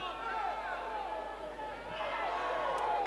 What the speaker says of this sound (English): And the crowd just starting to get into this contest too